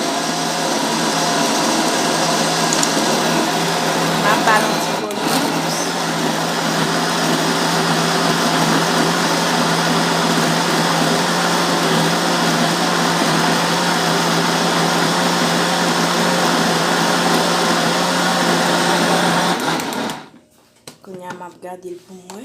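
An electric blender grinds Haitian epis seasoning with a loud, steady whir for about twenty seconds, then cuts off abruptly, leaving a brief quiet stretch with a voice speaking.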